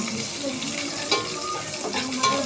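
Vadagam, a dried seasoning ball, crackles and sizzles as it fries in hot oil for a fish curry. The frying hiss runs steadily, with faint pops scattered through it.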